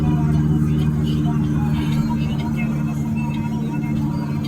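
Car engine cruising uphill on light throttle after building momentum on the descent, a steady low drone with faint road noise, continuous and moderately loud, under someone talking.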